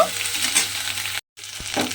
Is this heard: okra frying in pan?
yes